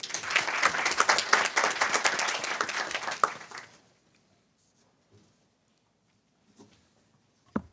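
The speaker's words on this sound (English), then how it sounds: "Please give a warm round of applause to Congresswoman Sheila Jackson Lee." A roundtable audience applauds Congresswoman Sheila Jackson Lee, with dense, moderately loud clapping for about three and a half seconds before it cuts off into near silence, broken by a couple of faint knocks and a brief sharp sound at the end.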